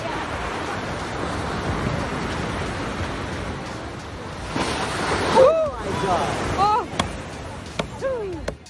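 Ocean surf washes steadily while surfers ride the waves, a constant broadband roar with a few louder swells, while voices shout and call out over it in the second half.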